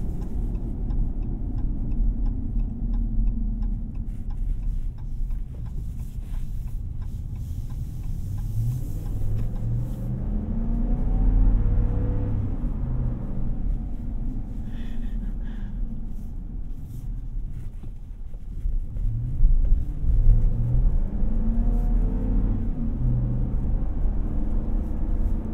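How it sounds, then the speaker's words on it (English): A 2024 Ram 1500 Rebel 4x4 with its V8 engine pulls away, a low steady rumble building and swelling as it accelerates, heard from inside the cab with no talking. "This V8 sounds good."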